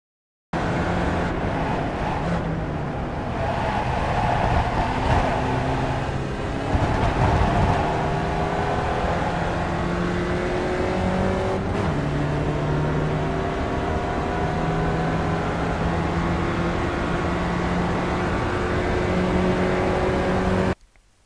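Spec Racer Ford engine in the iRacing sim at Circuit Gilles Villeneuve, Montreal, held at a loud, steady drone with rising pitch sweeps through gears along a straight toward a chicane, continuous for the whole stretch.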